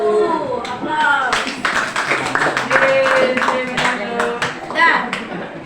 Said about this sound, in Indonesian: Aplaus.